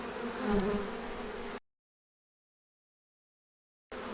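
Honey bees buzzing at an opened spring hive, a steady dense hum close by that cuts out abruptly for over two seconds, then resumes.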